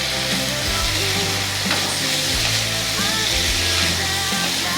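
A pan of vegetable curry with Kashmiri red chilli powder sizzles steadily while a spoon stirs through it, producing soft scraping clicks over the constant frying hiss.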